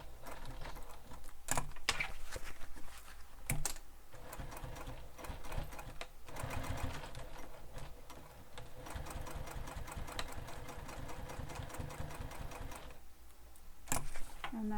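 Sewing machine topstitching a crossbody bag, a rapid mechanical whir in short and long runs, with pauses and clicks between stitching bursts, fairly quiet and close.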